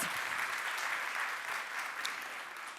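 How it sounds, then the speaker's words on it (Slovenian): An audience at an awards ceremony for doctors breaks into applause, a dense, steady patter of many hands that holds evenly and then fades slightly toward the end. "Hvala za aplavz"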